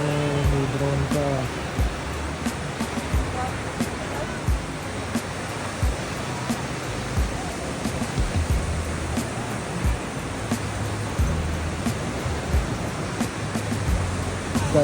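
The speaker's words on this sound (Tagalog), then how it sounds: "Guys, ayan po, napakalakas ng alon." Strong ocean surf rolls in at San Juan, La Union, the Philippine surfing spot, a loud continuous wash of breaking waves with people chatting faintly nearby.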